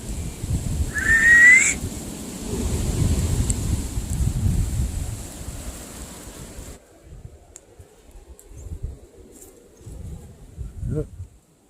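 A short, high whistle rises briefly over strong gusting wind outdoors, followed by quieter rustling.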